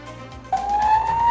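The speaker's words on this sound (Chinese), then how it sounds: "警车鸣笛抢时间，" A police car's siren starts abruptly partway through and wails steadily and loudly. The car is on an emergency call, running a red light at a city intersection, and there is traffic noise underneath.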